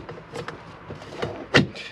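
A fly screen on the door of an Elddis AutoQuest 180 camper is slid along its track. It gives a short run of soft rattles and scrapes that ends in a sharper clack as it latches, heard up close.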